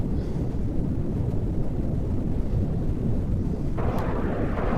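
A rocket engine fires in the video game Kerbal Space Program, a loud, unbroken low roar with a dense rumbling texture that holds steady for the whole stretch, with no talk.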